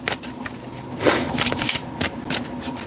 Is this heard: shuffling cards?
yes